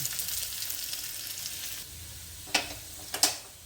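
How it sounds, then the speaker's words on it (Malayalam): Mustard seeds, curry leaves, two chilies and three shallots fry in hot oil as tempering for hog plum and crab curry: a steady close hiss with a few sharp seed pops bursting near the end. "ഒരു ടീസ്പൂണോളം കടുക് ചേർത്തിട്ടുണ്ട് നന്നായി ഒന്ന് പൊട്ടി വരട്ടെ കറിവേപ്പിലിടാം രണ്ട് മുളക് മൂന്ന് ചെറിയ ഉള്ളി"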